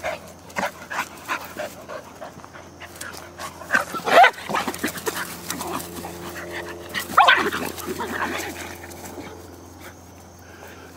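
A small dog barks and yips at an excited puppy in short bursts, with whimpers and scuffling of close, lively play, and a person speaks briefly in between.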